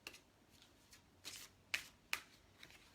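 Oracle cards are drawn and handled, with soft papery flicks and several sharper slaps as cards are pulled and laid down one by one, quiet and close.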